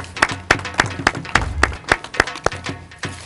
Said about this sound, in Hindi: तालियाँ जी।